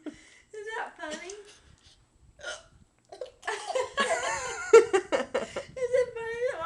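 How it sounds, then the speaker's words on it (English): Two people hiccupping, a mother and a young child, with short sharp hiccups scattered among bursts of giggling and laughter, close and clear. "We both have the hiccups."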